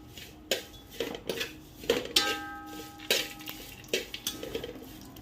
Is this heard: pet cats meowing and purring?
no